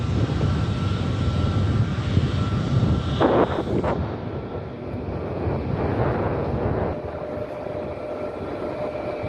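A TUI Airways Boeing 787 Dreamliner is towed onto a taxiway at London Luton Airport, giving a steady loud rumbling drone of tug and airport noise with a brief higher whine partway through.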